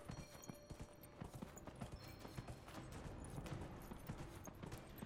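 Horse hooves clip-clop at a steady gallop during a race in the video game Dragon Age Inquisition, a dense rhythmic patter of hoofbeats that carries on throughout.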